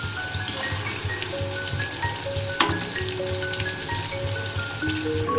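A close, constant sizzle of brinjal fingers deep-frying in hot oil on a medium-high flame, with a sharp clink of a utensil partway through and no voices.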